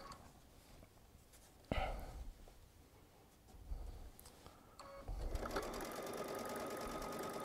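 A Baby Lock Solaris sewing machine pieces a batik quilt with a quarter-inch quilting foot, its quiet motor whirring and then rising into a steady, rapid stitching hum, with a few clicks and handling sounds before it.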